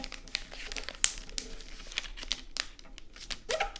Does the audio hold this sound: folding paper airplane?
yes